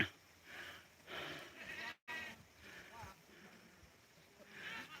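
A stuck baby goat, horns caught in a wire fence, bleats in several short, wavering cries at moderate distance on a rainy day, with rain and background noise throughout.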